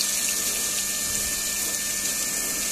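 Sandy, foamy water flows and splashes out steadily while a Baleno car is being cleaned, a continuous close rushing wash with no voices.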